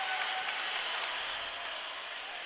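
A crowd at a varsity boys high school basketball game on senior night applauding and cheering, a dense steady wash of clapping that fades slightly toward the end.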